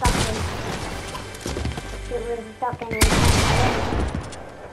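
Gunfire in a video game with shotguns in play: a dense fusillade of close, loud shots, with a sharp burst near the midpoint, mixed with busy game sounds.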